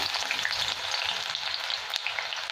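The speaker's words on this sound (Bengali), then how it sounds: "এবার পেঁয়াজটাকে আমি বেরেস্তা করে নেবো অল্প অল্প করে দিয়ে।" Sliced onions fry in hot mustard oil in a wok for egg biryani, giving a steady, close, dense sizzle and crackle throughout, with no talking.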